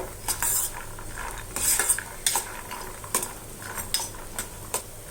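Cashews roasting in oil in a pan for lemon rice, stirred with a metal spoon that scrapes and clinks against the pan in repeated bursts over a soft, steady sizzle.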